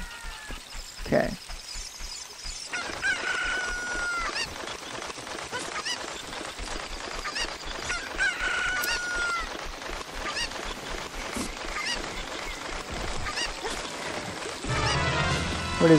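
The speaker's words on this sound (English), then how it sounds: "we're gonna need the chicken here." Chicken in Ocarina of Time squawking and clucking in short honking bursts over game music and sound effects, with a voice talking at points.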